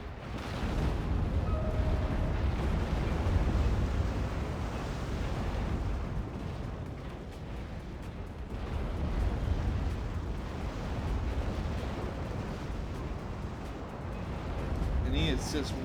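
Real-time strategy battle in Act of Aggression with mortars firing and shells exploding, a dense continuous rumble of distant booms and blasts running under an excited commentator's talk.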